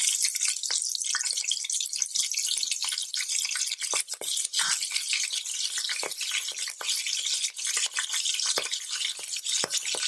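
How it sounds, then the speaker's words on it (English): Green chilies crackle in hot oil inside a pressure cooker while chicken biryani is being prepared, a dense, continuous sizzle peppered with small pops and the clink of stirring, close and fairly loud. "I'm going to add green chilies"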